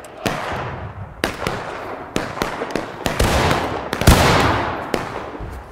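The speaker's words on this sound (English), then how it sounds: "Alright, fire off your last round." Musket fire from reenactors in a skirmish, a ragged series of sharp, loud individual shots spaced irregularly rather than a single unified volley, with echoing reports in between.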